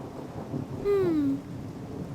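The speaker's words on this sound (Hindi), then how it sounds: "बाहर तो बारिश हो रही है" Rain falls steadily outside with a low rumble of thunder in an animated Hindi horror story set at a library, a soft continuous wash with a brief swell of rumble near the middle.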